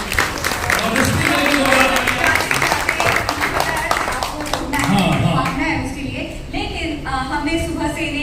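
Loud applause rings out for three people at a live mimicry and comedy stage show, steady clapping running throughout with voices and music layered over it.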